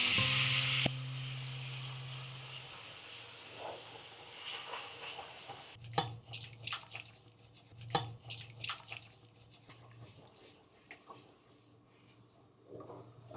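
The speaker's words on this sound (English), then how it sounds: "We'll let the sauce bubble" Cream sauce with stock for Swedish meatballs bubbles softly in a pan after a brief loud hiss at the start, followed by scattered gentle pops and plops, close but quiet.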